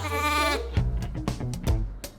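A lamb bleats in a long wavering cry followed by a few shorter bleats, close and clear, during lambing season in a university sheep barn.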